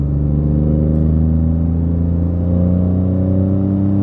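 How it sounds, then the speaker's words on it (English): A Ford Fiesta MK7 with a 1.0L EcoBoost engine accelerates, its exhaust giving a steady, loud, close droning hum with no talking over it. "Now you can hear that exhaust just there"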